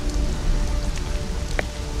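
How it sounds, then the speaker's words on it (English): Rain falls steadily outdoors, a dense, close patter of drops on surfaces with a constant hiss and a few louder individual splats, no voices. "It's a little bit rainy here today,"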